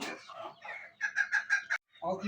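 Decorative chickens cluck close by in a series of rhythmic, nasal calls that rise into a crowing phrase, then a short pause before more clucking resumes.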